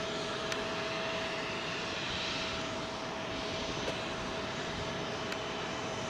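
A Logan Air ATR turboprop at London Heathrow runway 27L, a steady engine drone with a persistent propeller hum tone, moderate and continuous, no voices.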